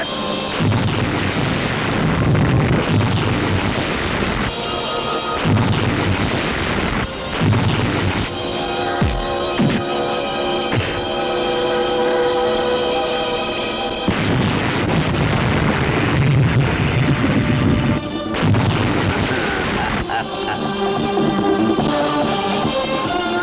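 Grenade blasts and battle noise in a Bollywood action film fight scene, with repeated loud booms and crashes layered over dense music and effects throughout, no clear talking.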